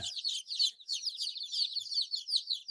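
Rhode Island Red chicks in a brooder give a dense, continuous stream of high, overlapping peeps and chirps at close range, with no talking.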